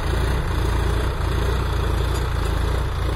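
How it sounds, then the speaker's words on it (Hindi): A new Solis 5015E 50 hp power-steering tractor engine runs nearby with a steady, even drone, holding a constant level without revving, and no other sounds over it. "ये भाइयों आप देख सकते हैं, सोलस ट्रैक्टर चल रहा है भाइयों,"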